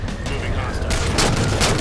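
A grenade blast and crackling gunfire fill the Halo video game battle, with dense, loud bursts throughout under radio-style voices.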